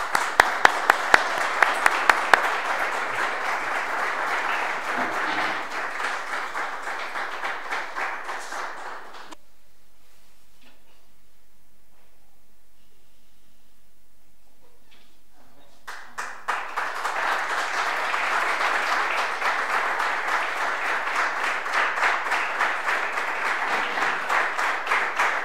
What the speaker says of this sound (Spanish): Un fuerte aplauso y muchas gracias por asistir.